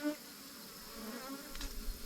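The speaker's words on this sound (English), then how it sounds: "There's some good bees." Honey bees hum at an open hive, a steady, faint, close buzz running through the whole stretch with no voices.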